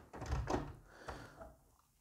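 A massive white interior door in a new apartment is handled up close, giving a few soft thumps and knocks of the door and its fittings, fairly faint with no talking over it.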